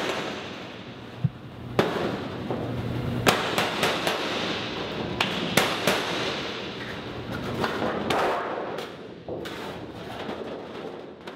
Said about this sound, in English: I'll go ahead and just work down the field of rivets and work myself to the center of the skin